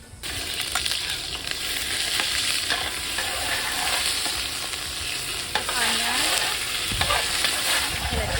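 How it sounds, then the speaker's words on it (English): Curry leaves, methi and geera sputtering in hot oil for a duck curry, a loud dense crackle throughout with occasional stirring knocks and pops, no voices. "now I'm putting a little Carapoolay leaf in the oil, Mehti, and Geera first"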